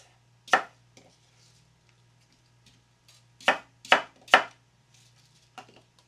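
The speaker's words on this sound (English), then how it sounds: "So I'm going to chop these up a little bit just to help the blender." Produce being roughly chopped on a board with a knife before going into a blender for a superfood smoothie: a single cut, then a quick cluster of three sharp knocks and a softer tap, close and clear in a quiet room.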